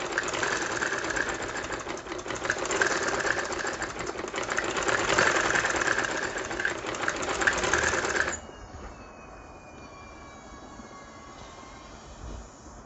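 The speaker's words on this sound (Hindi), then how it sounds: "इस तरह से थोड़ा थोड़ा गैप में स्टिचिंग कीजिएगा।" Sewing machine stitching a ladies' trouser: a fast, continuous mechanical chatter of rapid stitches runs for about eight seconds, then stops, leaving faint room noise with a soft tone.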